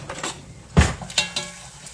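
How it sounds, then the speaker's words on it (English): A spoon strikes and scrapes a pot while seasoning is stirred into chili, with one loud clank followed by a few lighter knocks and scrapes, close and without talking. "You just want to stir those up"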